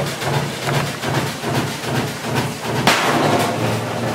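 Hammer repeatedly smashing an HE top load washer in a garage, a rapid series of metallic banging impacts with a sharper crash near the end.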